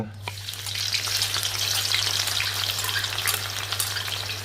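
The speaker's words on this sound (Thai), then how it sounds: "อันดับแรกเรามาทำหัวหอมเจียวกันก่อน" Sliced shallots fry in oil over low heat for Thai crispy fried shallots, a dense continuous sizzle and crackle over a steady low hum, close and even throughout.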